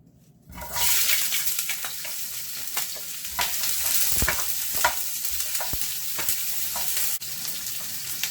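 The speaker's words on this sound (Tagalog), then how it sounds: "Maggisa na po tayo ng ating sibuyas." Onions sautéing in a pan for Mongolian beef: a loud, steady sizzle begins abruptly after a short quiet moment and continues, broken by occasional scraping stirs and clicks.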